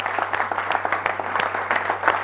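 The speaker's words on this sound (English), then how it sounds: "So give yourselves a big round of applause" A room full of people applauding after a presentation, brisk overlapping claps in a short, lively burst, fairly close and loud.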